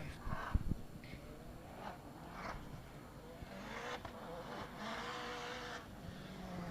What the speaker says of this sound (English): Listen to that car just scrambling for traction.